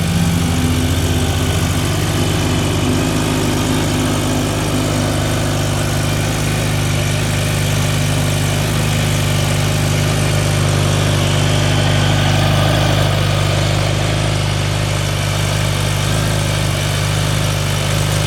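A supercharged 2021 Kawasaki Ninja H2 motorcycle idles steadily and close by, its engine note a continuous loud rumble with a dense low hum that holds without breaks.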